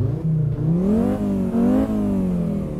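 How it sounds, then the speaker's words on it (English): A turbocharged Ford Fiesta XR2 engine revs up and down repeatedly, a loud, close rising whine with a turbo-like whir, and no voices. "That's sounding turbo to me."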